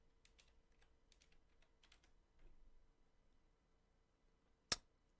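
A password is typed on a computer keyboard: a few faint, quick key clicks in small clusters, then a single sharper, louder tap, all in a quiet room without talk.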